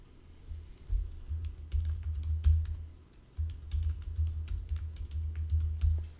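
Quick, uneven keystrokes on a computer keyboard as an email and password are typed, a close, clicky patter that pauses briefly midway before resuming, with no voices.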